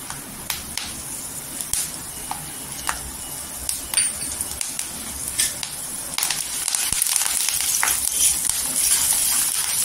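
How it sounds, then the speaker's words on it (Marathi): Tempering of mustard seeds, curry leaves, garlic and ginger in hot oil for a potato curry, giving a steady close sizzle dotted with sharp crackles and pops that grows louder and denser in the second half. No voice is heard. "मोहरी पण तरतरल्यानंतर आहे ना कढीपत्ता टाकायचा."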